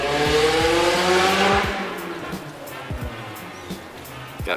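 A car roars past at speed, its loud engine note sweeping down in pitch as it recedes, leaving a fading rumble and some distant background noise.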